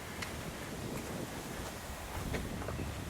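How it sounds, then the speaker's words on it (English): Wind gusting across an exposed rocky outdoor site, a steady broadband rush with soft buffeting against the microphone, continuous and fairly loud without any talking. "you feel that wind come through here, that breeze?"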